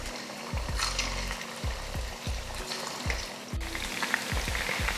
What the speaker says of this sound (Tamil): எண்ணெய் நல்லா காஞ்சிருச்சு. இப்போ சிக்கன் பொரிச்சுக்கலாம். இது மாதிரி ஒவ்வொரு பீஸாக போட்டு பொரிச்சு எடுத்துருவோம்.